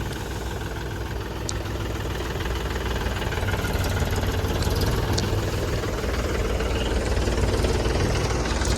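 A tractor engine idles with a steady, throbbing chug that stays loud and close throughout while the tractor is unloaded at a market yard, with no voices.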